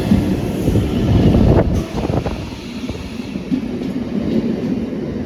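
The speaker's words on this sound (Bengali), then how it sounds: "ট্রেন এসে যায়" A train rumbles into a station, a loud steady roar of rolling wagons with rhythmic clatter from the rails and wind noise buffeting the microphone.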